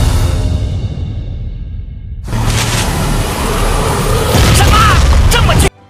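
A huge explosion in a fantasy donghua animation: a dense, rumbling roar with rising crackle and debris texture that swells to a loud sustained blast, then cuts off sharply.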